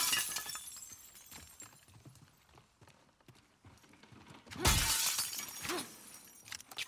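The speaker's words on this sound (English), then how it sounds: "Break all the glass." Glass shatters in The Last of Us Part II video game, a loud crash with tinkling shards midway, followed by a smaller second break, after quieter clattering footsteps.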